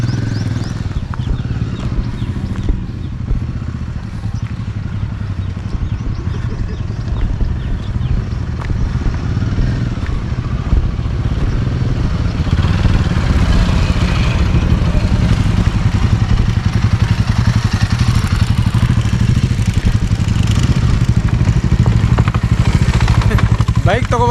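A motorcycle engine runs steadily and close by on a hill trail at Timmappana Betta near Ramanagara, its low rumble holding throughout with some rattle and a slight rise toward the end.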